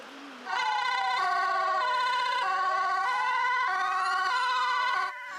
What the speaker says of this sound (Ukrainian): Усе це під супровід сирен та фонтани води з пожежних рукавів